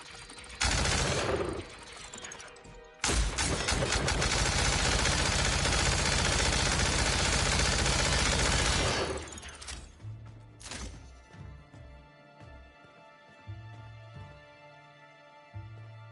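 Spectrum Gatling gun from the video game The Outer Worlds, a dense, loud sustained burst of rapid mechanical fire lasting several seconds after a brief opening burst, then dying into quieter clanks and game sounds with no talk.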